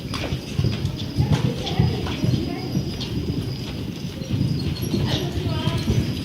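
Pony cantering to the left in a riding arena, rhythmic hoofbeats thudding in a steady three-beat pattern at moderate distance, with someone talking over them.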